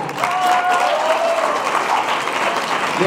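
An audience at a high school poetry slam breaks into sustained applause and cheering, dense and loud throughout with a faint whistle or whoop, no talking.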